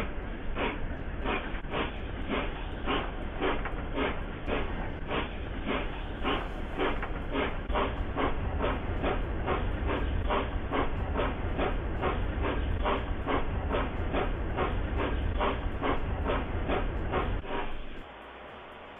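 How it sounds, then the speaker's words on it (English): Model locomotive running sounds played through a phone control app: a steady, rhythmic chuffing beat repeats evenly for about seventeen seconds before cutting out, sounding thin and tinny. "Tap on the running sounds icon to turn on locomotive running sounds."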